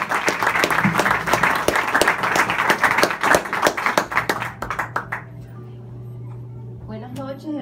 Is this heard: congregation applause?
yes